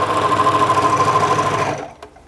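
An overlocker stitching elastic, a fast even mechanical whir running loud and close before stopping abruptly, followed by a small click in near silence.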